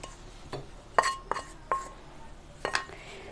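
Dosa batter mixed with sautéed tomato, onion and green chilli is stirred in a bowl, giving a handful of sharp clinking utensil knocks against the dish spaced across a quiet background.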